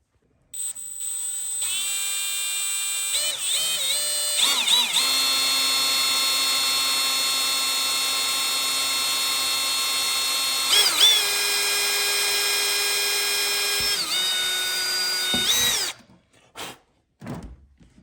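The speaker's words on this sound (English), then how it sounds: "I'm going to drill a small pilot hole" An electric drill whines steadily at high speed for several seconds boring a small pilot hole in a plastic kayak, pitch dipping briefly under load, then stops with a few clunks.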